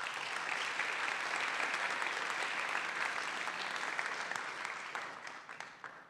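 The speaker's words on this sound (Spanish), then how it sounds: "Fuerte aplauso, por favor." Steady, dense applause from a forum audience at a Mexico City social-policy panel, filling the whole stretch at an even level and thinning slightly near the end, with no voices over it.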